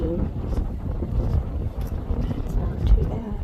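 Wind buffets a microphone on an exposed lookout during a hike, making a rough, gusty low rumble that swells and dips throughout. A voice is faintly mixed in.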